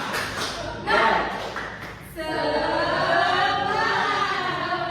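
A school class performs a 'tepuk semangat' clapping routine: a few group claps in rhythm, then the children break into a loud, sustained chanted shout together.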